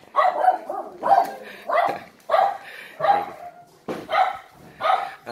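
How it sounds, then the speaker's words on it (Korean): Pet dogs whine and yip repeatedly in short rising bursts, close by, an insistent pleading rhythm of high whimpers and small barks with no talk over them. "우리 꽃갈콘슨 덕순이하고 우리 슈가는 낑낑대요. 잘 나가고 싶다고"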